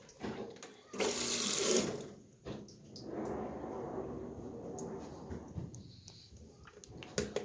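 Water rushes and gushes into an overloaded GE belt-drive washing machine filling with cold water, starting with a loud burst and then a steady, softer flow with some clunks and a trickle.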